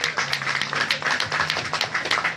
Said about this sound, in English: Ottumwa, come on, give yourself a round of applause